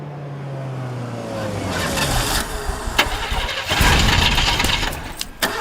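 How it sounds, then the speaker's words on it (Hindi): A car engine cranks repeatedly without catching, a rising whirring starter sound with stuttering bursts and clicks, close and fairly loud, with no voices over it. "गाड़ी चालू नहीं हो रही सर।"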